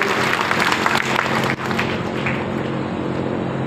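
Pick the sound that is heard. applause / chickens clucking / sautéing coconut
applause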